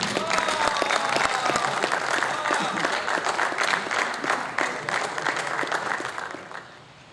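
Dense, sustained audience applause at a poetry gathering as the session's president is welcomed, loud and close, holding steady for several seconds before fading out at the end.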